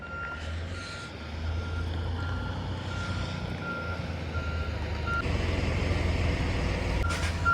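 A truck's reversing alarm beeps steadily over a continuous engine rumble outdoors near a highway accident scene, with no talk.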